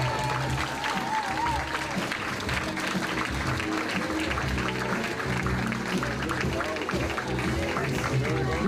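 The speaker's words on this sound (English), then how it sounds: "Nice round of applause." Wedding guests clap steadily for the groom's parents being introduced at the reception, a continuous crowd applause heard over background music and a voice talking.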